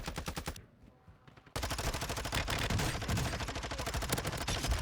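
Rapid automatic gunfire in Call of Duty Warzone on the Vondel map, loud dense bursts of shots that briefly pause, then resume in a sustained rattling stream.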